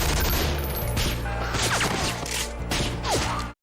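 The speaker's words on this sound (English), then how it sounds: "They're shooting their own men." Rapid gunfire and clattering mechanical noise from the 2007 movie 28 Weeks Later, soldiers shooting from rooftops, a dense sustained burst heard at moderate level with no talk over it.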